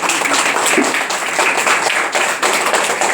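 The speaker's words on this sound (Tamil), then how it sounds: "குட்டீஸ் ஒரு சின்ன ஒரு கைத்தட்டின்னு பார்ப்போம்." A group of children at a summer camp ceremony gives a short round of dense applause that carries on at steady loudness for about three seconds, with no talk.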